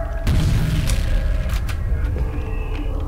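Grenade explosion in the shooter game F.E.A.R., a deep boom followed by rumbling, creaking debris and scattered sharp crackles, close and loud with no talk.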